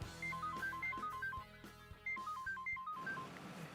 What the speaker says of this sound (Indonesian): Bentar ya, nyokap gue telepon.